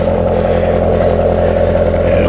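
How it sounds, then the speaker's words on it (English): A Corvette's steady, deep engine drone with a throaty exhaust rumble holds constant throughout, fairly loud and close. "that's that beautiful exhaust note from Greg's car going to Washington State."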